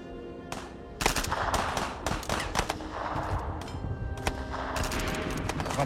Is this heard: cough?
no